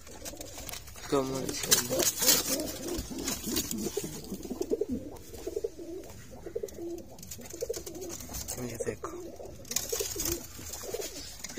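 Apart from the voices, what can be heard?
pigeons cooing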